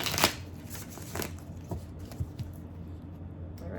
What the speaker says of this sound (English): let's get some tarot on the table